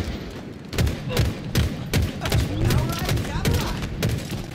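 Rocket launches and explosions in the shooter game Halo Infinite, a rapid series of loud booming blasts and gunfire bursts spaced under a second apart, with chaotic battle noise throughout.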